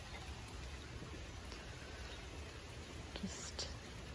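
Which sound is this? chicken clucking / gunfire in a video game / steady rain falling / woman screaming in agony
steady rain falling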